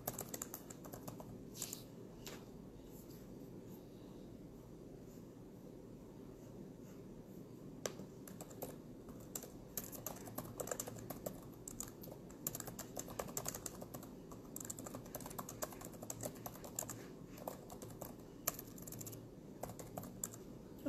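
Someone types on a computer keyboard, producing faint, irregular clicking that runs continuously for about twenty seconds, alone with no talk over it.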